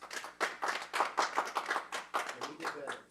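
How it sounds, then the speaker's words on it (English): A school board work session audience applauds, producing a quick run of moderately loud, irregular claps that fill the whole moment, with faint voices beneath. "give yourselves a round of applause"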